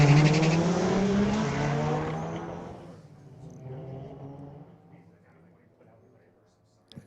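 Drag race cars launching at a street-legal night at Mission Raceway Park, a 2011 GTI against a 1992 Talon TSR: loud engine roar that swells, then recedes into the distance, overlapped by a track announcer's voice.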